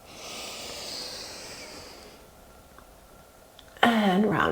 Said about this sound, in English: Nice deep breath in.